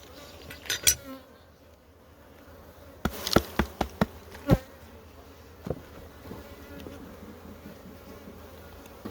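Bees buzz steadily around a backyard beehive, a low continuous drone close by, broken by several sharp knocks and clatters near the hive.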